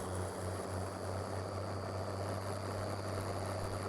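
A tractor engine in Farming Simulator idles steadily with a low droning hum and a faint whine, constant and unchanging throughout.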